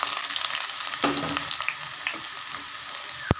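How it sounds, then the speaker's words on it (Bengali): Sliced onions sizzling in a pan on a gas stove for a cabbage roast, a steady broadband crackle with a soft stirring scrape around the middle and a brief knock at the end, close and moderately loud. "এখানে আমি এই পেঁয়াজগুলোকে একটু ভেজে নেব"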